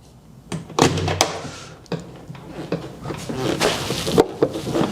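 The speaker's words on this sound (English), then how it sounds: "See, it just binds up there before it shuts." A Land Rover Defender door with a binding check strap swings and closes in a series of thunks and creaks, muffled knocks spread over a few seconds under faint background noise.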